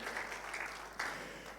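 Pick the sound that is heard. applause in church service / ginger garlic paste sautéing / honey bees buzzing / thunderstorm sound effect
applause in church service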